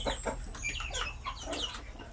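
Native chickens on a Philippine poultry farm cluck in a steady run of short, close calls, several birds overlapping over a constant low farm hum, with no talking.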